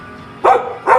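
A dog gives two loud, close barks about half a second apart, each short and sharp, over a quiet background with no speech.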